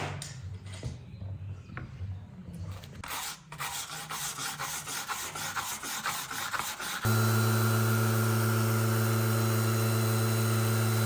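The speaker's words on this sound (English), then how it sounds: "I'm just going to put that scraper on there. It doesn't scrape the grain of the next piece." Steel scraper rasping along the wood of an old stable door under restoration, a steady close scratching run for about seven seconds, then a sudden loud steady hum with a low drone takes over.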